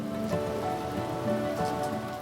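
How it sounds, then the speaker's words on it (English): Steady summer rain shower patters on surfaces outdoors, a continuous dense hiss with a soft low rumble underneath, no voices. "a rumble of thunder and a summer rain shower"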